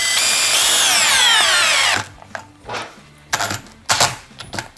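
A STARK CD 18-2 B cordless drill in first gear drives a 152 mm turbo screw into wood, a loud close whine rising in pitch for two seconds, then stopping, followed by a few clunks and handling knocks.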